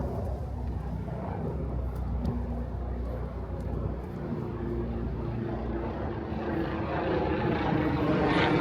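A helicopter's low, throbbing engine drone passes overhead above a street in Brooklyn, New York, fairly distant at first and swelling slightly louder toward the end.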